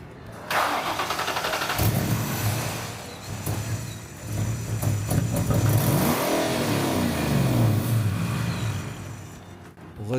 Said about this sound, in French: Avec ce bouchon en place, ça devrait démarrer sans projeter de liquide de refroidissement ou d'eau.